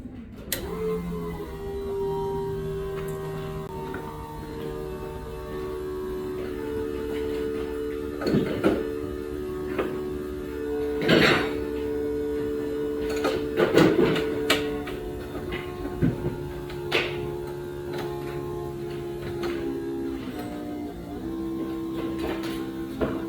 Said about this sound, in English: we'll prime the fuel pump and see if we've got any